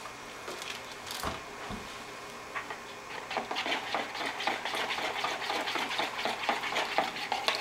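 Chicken stir-fry sauce, thickened with a little starch, is stirred with an ordinary utensil rather than a whisk, making quick continuous scraping and tapping against the pan over a low bubbling sizzle, louder in the second half.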